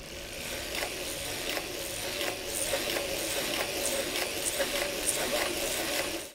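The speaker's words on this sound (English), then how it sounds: "we're going to crank 63 rounds for the foot" A hand-cranked circular sock knitting machine ratchets and clicks in a quick, regular mechanical rhythm as it knits, close and moderately loud with no voices.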